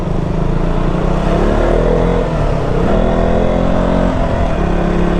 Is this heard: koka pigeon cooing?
no